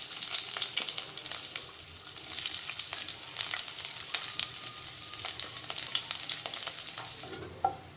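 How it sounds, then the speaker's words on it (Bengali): Chopped onions frying in hot oil in a pan, a continuous crackling sizzle with bursts of stirring, steady and close throughout without talk. "এবার কাটা পেঁয়াজ দিয়ে দিচ্ছি।"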